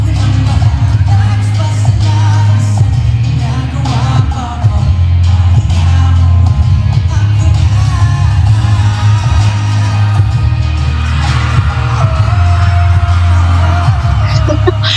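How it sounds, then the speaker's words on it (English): A concert crowd screams and yells continuously at a show, a loud, dense roar of shouting voices with deep booming beneath it for the whole stretch. "Wherever he faces, it's like screams hit back at him."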